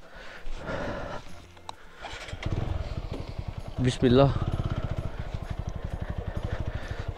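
A TVS Apache 160 4V motorcycle running on a foggy winter morning, its engine pulsing steadily close by as the bike rolls along a rough path near a large pothole, with someone talking over it at the start.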